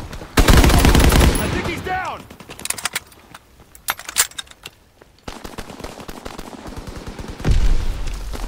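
Rifle and machine gun fire in Call of Duty WW2, a loud sustained burst at the start, then scattered sharp shots and another heavy volley, with soldiers' voices shouting in the mix.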